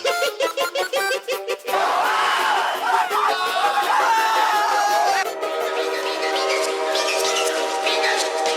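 In an SMG4 cartoon, a train runs over characters: a fast rhythmic chugging opens, then a loud, sustained horn-like blare with shouting voices and cartoon commotion.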